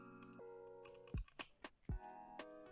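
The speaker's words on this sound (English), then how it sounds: "Those are definitely clicky switches." Kinesis TKO 60% mechanical gaming keyboard with Kailh Box White clicky switches, a few crisp clicking keystrokes close up, then two heavier thuds, with no talk.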